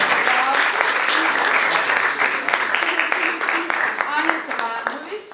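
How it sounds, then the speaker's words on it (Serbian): Sustained clapping from a school audience at a language-culture quiz in a gymnasium, steady and fairly close, with a few voices calling out over it. "Aplauz."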